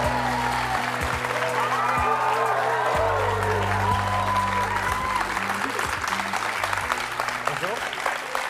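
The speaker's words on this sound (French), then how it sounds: "nous allons accueillir et applaudir très chaleureusement Eri." A studio audience at a French talk show applauds to welcome a guest, with sustained, dense clapping throughout and background music and voices underneath.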